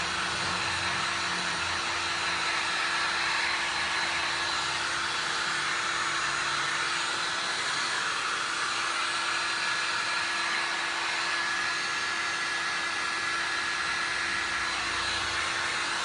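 A heat tool blows steadily and loudly over wet resin on a piece of glass art, a continuous close airy roar with a faint whine and no talk.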